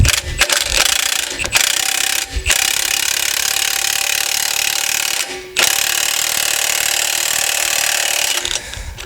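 A pneumatic-style impact wrench works on the front shock of a 2017 Ram 1500 4x4 during a Belltech drop kit install, running in long loud bursts broken by a few brief pauses.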